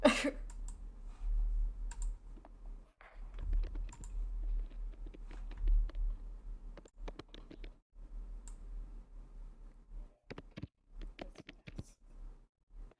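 Quiet, intermittent tapping of keys on a keyboard, irregular clicks in short runs over a low background hum.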